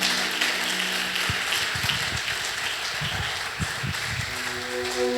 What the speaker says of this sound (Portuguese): Se é para Ele, dê mais forte esse aplauso